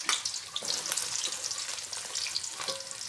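Sliced onions for chicken biryani hit a cup of hot oil, giving a loud, steady crackling sizzle with bright spitting bursts throughout, close up and with no talking.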